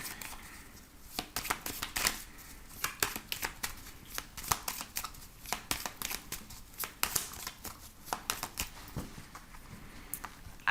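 Tarot cards being shuffled and cut, a close, quiet run of crisp riffles and flicking taps in irregular bursts, with no talking over them.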